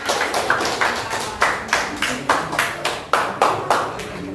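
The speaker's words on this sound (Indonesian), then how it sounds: "Tepuk tangan buat Mas" Scattered hand claps from a small group at a classroom training session, about a dozen separate sharp claps in an uneven rhythm, fairly close, with no talking over them.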